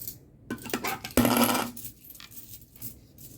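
Coins drop into a Red Horse coin bank, a few metallic clinks followed by one brighter, ringing clatter, close and fairly quiet with short pauses between.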